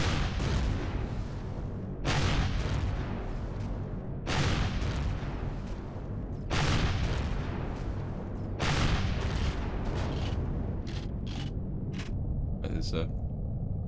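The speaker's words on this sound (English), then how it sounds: "was a turret firing at me" A turret in Empyrion Galactic Survival fires repeated heavy booming shots at intervals of roughly two seconds over a constant rumble, closing with several quicker sharp blasts.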